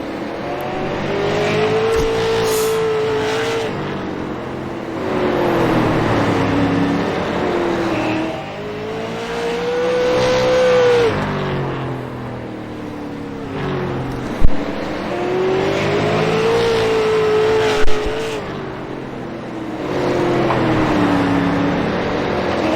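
Late model stock cars roar around a track at night during a race, engines droning steadily and rising and falling in pitch as they pass, with two sharp knocks midway.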